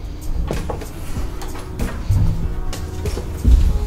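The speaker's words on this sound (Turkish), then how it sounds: "Eşim bu kapıyı açabilir" Hotel room door with a knob-style handle in an accessible room at a resort in Kemer, Antalya, being opened: a few soft clunks and thumps of the handle and latch, then a heavier low knock near the end, close by.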